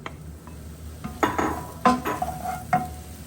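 Aubergine fries in coconut oil in a pan. A soft sizzle sits under several close, sharp clinks and scrapes of a utensil against the pan, spread irregularly across a few seconds.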